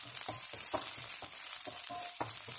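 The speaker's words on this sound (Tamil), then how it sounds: "நல்லா ஒரு 2 மினிட்டு ஃப்ரை பண்ணிக்கிறேன்." Garlic and dried red chillies fry in a pan, giving off a steady hiss with several bursts of louder crackling and stirring scrapes, close by and with no talking.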